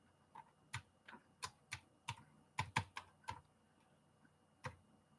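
Fingers tap on a computer keyboard, about a dozen distinct clicks in uneven clusters with short pauses between, fairly quiet and close, with no voices.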